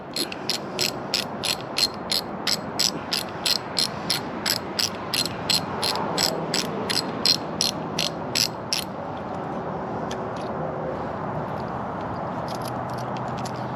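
A ratchet tightens the bolt of a bar-end mirror on a 2021 Honda Super Cub 125, clicking in a quick, regular run of sharp close strokes for about nine seconds before it goes quiet.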